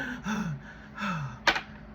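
A voice imitates gasping for air, with two drawn-out strained breaths followed by a sharp intake, close and moderately loud.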